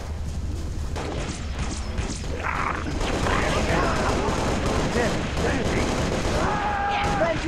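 Gunfire rattles in the video game Halo: Reach, rapid bursts and shots blending into a dense, loud barrage with voices calling out over it.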